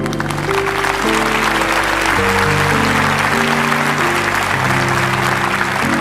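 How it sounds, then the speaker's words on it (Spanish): Sustained applause from a church congregation fills the space, steady and loud, with organ or keyboard chords ringing underneath throughout. "Quiero darle un aplauso a todos esos que están de pie."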